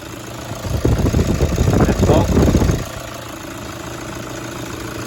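A Toyota Hilux 1KD-FTV diesel engine idles with the engine cover off and loose nuts rattling. A louder, rougher clattering stretch lasts about two seconds, then drops back to a quieter steady idle hum. No voices.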